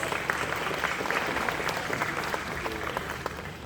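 Dense, sustained audience applause fills a hall at an introduction during the Kolkata French Film Festival, a steady wash of many hands clapping at an even level throughout.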